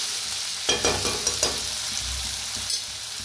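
Cut tomatoes and onions roast in a pan with a soft sizzle, broken by a few sharp clinks and scrapes of a spoon stirring, close and with no voices.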